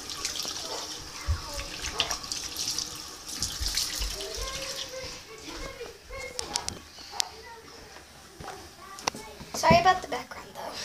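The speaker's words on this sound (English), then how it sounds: "She washes her hands." Water runs from a bathroom tap as hands are washed at the sink, a steady close splashing flow with a voice and other talk in the background.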